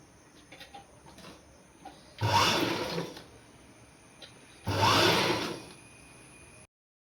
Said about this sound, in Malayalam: ഈ ക്രോസ് പീസ് അതിനുശേഷം കാലിഞ്ച് വീതിയിൽ സ്റ്റിച്ച് ചെയ്യുക